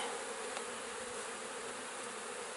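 Honey bees buzz around an open hive during an inspection, a dense, continuous drone of many insects close by with no talk.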